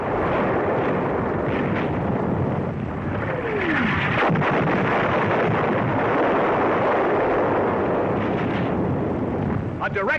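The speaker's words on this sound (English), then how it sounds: "A direct hit on an enemy 88mm gun position." A shell explosion strikes an enemy 88mm gun position in 1943 North African combat footage, heard as a dense, sustained roar of blast and battle noise filling the whole stretch at steady loudness, with no speech.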